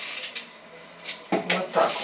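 A knife taps and scrapes through raw potato on a cutting board as it is sliced thinly for a French-style oven bake, giving a few quick, close chopping clicks and rubs with a short pause between strokes.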